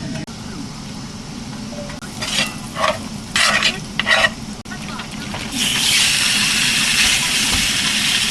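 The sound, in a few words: steak sizzling in a pan with garlic butter and rosemary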